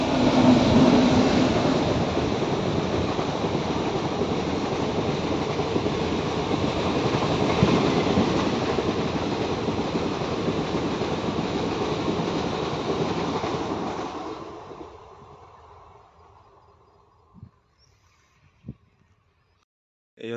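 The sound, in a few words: train passing overhead on a railway line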